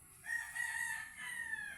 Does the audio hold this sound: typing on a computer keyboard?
no